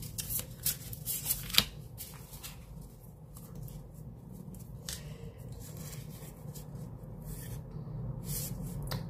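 Tarot cards are shuffled for a reading, first in a quick flurry of close, crisp riffles and snaps, then fading to quieter rubbing and sliding of the deck.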